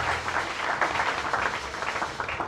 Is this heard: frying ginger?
no